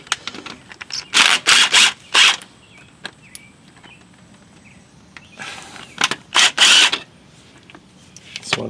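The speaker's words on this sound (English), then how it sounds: "10mm socket on my drill." Cordless drill fitted with a 10mm socket and extension bar spinning out starter bolts on a car, several short loud whirring bursts in two clusters separated by pauses and small clicks.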